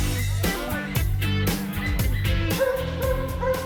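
A pack of hunting dogs bays on the trail during a communal hunt in France, overlapping yelps and howls in rapid, uneven bursts, close and loud, with continuous barking layered throughout.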